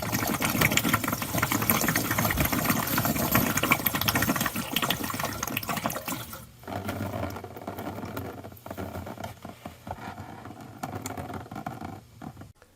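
Water gushing out through the drain hole of a shutoff valve for an outside faucet, a loud steady rushing spray for about six seconds that then drops to a quieter, intermittent trickle and dribble.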